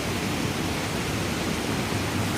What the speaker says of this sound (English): You got this little waterfall down there.